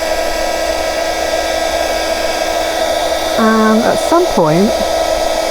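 A handheld heat tool runs on its high setting with a loud, steady blowing whine, close up, while a voice briefly speaks over it.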